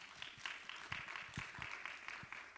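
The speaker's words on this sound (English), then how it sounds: "Let's give her a round of applause." Faint, distant audience applause at a women's leadership forum, a short burst of many hands clapping heard at low level.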